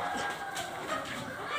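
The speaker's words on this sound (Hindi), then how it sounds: "ये देखो यहाँ पर ऊपर बैठी है ये काली काली मुर्गियाँ" Black hens cluck on a poultry farm at NDUAT Kumarganj, Ayodhya, their calls blending into a dense, steady wash of flock noise at moderate distance.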